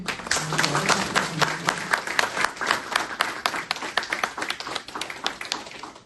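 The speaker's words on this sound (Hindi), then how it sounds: "तो मैं आपसे रिक्वेस्ट करूंगा एक बार जोरदार तालियां बजा के।" Audience at a farmers' agricultural outreach event in Pune clapping at a speaker's request, a crowd of sharp, individually audible claps in an uneven patter over six seconds, with a brief low voice or hum near the start.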